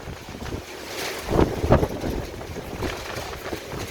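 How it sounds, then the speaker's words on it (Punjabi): Strong winds gust hard in Firozpur, buffeting close and loud with rushing, roaring surges that rise and fall. "ਤੇਜ਼ ਹਵਾਵਾਂ ਚੱਲ ਰਹੀਆਂ ਹਨ"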